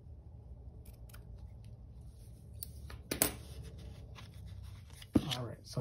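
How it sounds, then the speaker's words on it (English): Scissors snip through fabric while making a small witch gnome, a few sharp close cuts standing out above a quiet background with a faint voice. "So we're going to cut across"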